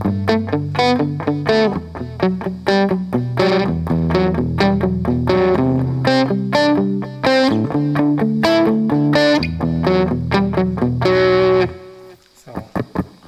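An electric guitar plays a busy, palm-muted riff through distortion, the heel of the hand damping the strings into short, chugging notes. The sound is close and loud, then stops near the end, leaving a quieter tail.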